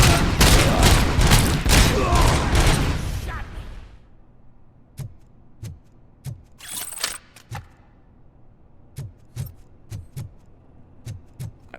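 Robocop: Rogue City gunfire: a dense, loud burst of rapid automatic shots for about four seconds, followed by a series of separate sharp single shots spaced irregularly over quieter background.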